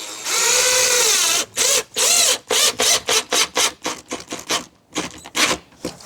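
Cordless power drill driving screws into a PVC mini-split exterior line cover, with a long whining run up to speed followed by a string of short, loud bursts of trigger pulses, close up.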